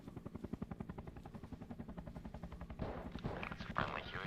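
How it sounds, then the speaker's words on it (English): A helicopter in the game ARMA Reforger thumps past with a fast, regular rotor chop, fairly faint, joined near the end by a burst of broader noise. "I'm hearing another helicopter."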